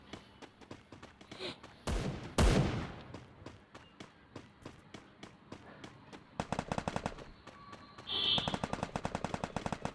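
Rapid automatic gunfire from a shooter video game, with dense bursts of shots, a loud blast near the start and sharper volleys toward the end, played over faint background game sounds.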